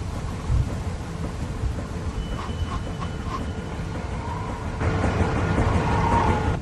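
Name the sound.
thunderstorm, from the video game The Walking Dead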